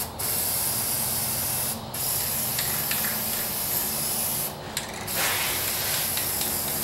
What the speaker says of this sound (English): I am going to take the time to spray some of the welds with high temperature Rust-Oleum paint